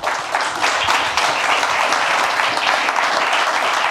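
Sustained audience applause fills a talk-show style gathering on high-end audio equipment as a guest named François is welcomed, a dense, steady wash of many hands clapping, loud and continuous throughout.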